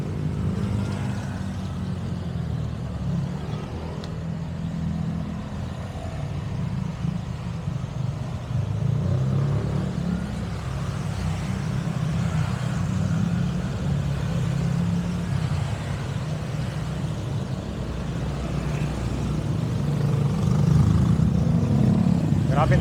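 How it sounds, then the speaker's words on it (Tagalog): Heavy road traffic rumbles near a road widening close to the airport at Kaingin on C5, a dense, steady low drone of passing cars and trucks that swells slightly toward the end. "Grabing traffic dito"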